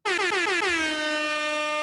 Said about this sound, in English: Do you like the air horn?